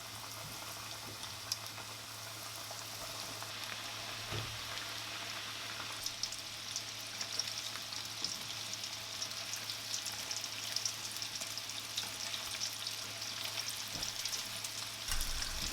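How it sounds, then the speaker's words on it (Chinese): Fish fillet deep-frying in hot oil, a dense, even crackle and hiss of fine bubbling that runs steadily throughout at moderate level, with a faint low hum beneath and no voices. "鱼非常容易炸，所以不需要炸得太久，基本上2面金黄就可以捞出了"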